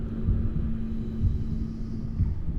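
Heartbeat in the horror game Bendy and the Ink Machine: dull, low thumps roughly once a second, pulsing under a steady droning hum in an otherwise quiet space.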